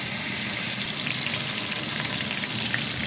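Ground spice paste sizzles and fries in a pan over medium heat, a steady close hiss filling the whole moment with soft stirring underneath and no voices.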